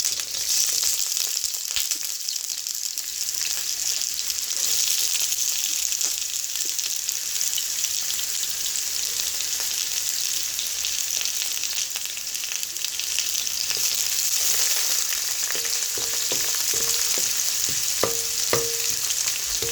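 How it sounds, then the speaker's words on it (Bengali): Onions fry in oil with bay leaf, three cloves and cinnamon for a black chickpea bhuna, giving a loud, continuous crackling sizzle up close, with occasional stirring clinks near the end and no voices. "তেল দিয়ে এখানে তেজপাতা, 3টা লং, দারচিনি দিয়ে দিলাম এবং পেঁয়াজ দিয়ে দিচ্ছি।"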